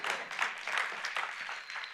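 A church audience claps during a Christmas celebration, with dense, sustained applause of many hands at moderate volume and no speech over it.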